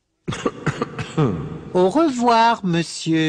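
A few short coughs from a person at the start, followed by a speaking voice close to the microphone.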